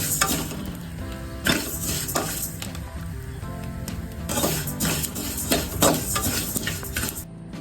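Sesame seeds roast in black oil in a hot pan, sizzling steadily while a utensil scrapes and clinks against the metal in repeated bursts, close and fairly loud, with no talking.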